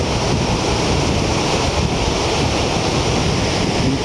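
Ocean surf at Sendai Shinko beach, a dense, continuous roar of breaking waves mixed with heavy wind buffeting the microphone, loud and unbroken throughout.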